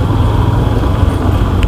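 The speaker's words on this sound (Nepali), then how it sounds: "कति बाइकहरू मात्र उडाउने होइन अब ट्रक उडाउने ट्रक" A truck passing on a road produces a loud, close, continuous engine and road roar that holds steady throughout without a clear rise or fade.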